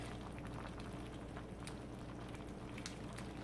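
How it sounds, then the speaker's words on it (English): Keto broth with meat, beans and vegetables bubbling in a pot, a faint, steady simmering hiss with soft popping throughout. "So bubbling away."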